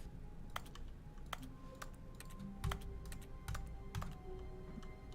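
Sharp clicks of a computer mouse, irregular and spaced apart, sounding close over faint background noise while playing The Stanley Parable.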